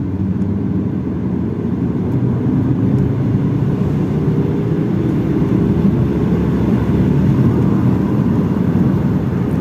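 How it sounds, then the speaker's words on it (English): Alfa Romeo 166 pulling hard in third gear from low revs, with a loud, steady engine roar and road rumble running unbroken and close throughout. "Okay, so now what you want to do, third gear, 2000 RPM, and floor it."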